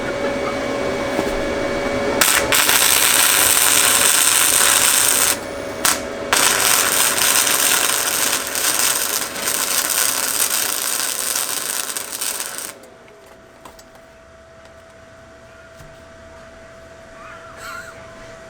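Welder powered by an Anker 757 PowerHouse portable power station, a loud continuous hissing, crackling buzz lasting about ten seconds with a short break, then stopping to leave a faint electrical hum.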